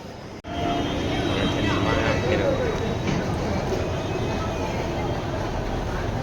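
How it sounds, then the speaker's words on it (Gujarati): Crowd and train noise fill the railway station at Haridwar as a steady, loud rumble mixed with busy crowd babble, continuous throughout after a brief dip at the start. "આ છે હરિદ્વાર જે રેલવે સ્ટેશન ત્યાંનું છે અને પબ્લિક તમે જોઈ શકો છો."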